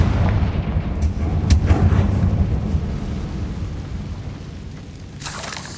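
An explosive fire spell from the Hogwarts Legacy video game goes off as a deep booming blast with rumbling tail, a second sharp burst near the end, loud and close with no talk.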